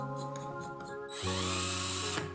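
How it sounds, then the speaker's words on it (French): A power drill fitted with three small bits clamped together spins up and bores into wood around a screw head, a steady high whine lasting about a second after some lighter handling sounds. "Percez légèrement le bois autour de la vis et l'enfoncez complètement pour noyer la tête"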